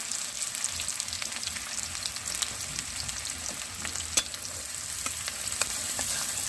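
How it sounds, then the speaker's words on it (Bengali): Two medium-sized chopped onions frying in hot oil in a pan for a dhaba-style chicken egg tadka: a steady, soft sizzle with scattered crackles and pops, close and unbroken, with no voice over it. "তেল গরম হয়ে গেছে। এখন আমি কুচি করে রাখা পেঁয়াজ দিয়ে দিলাম।"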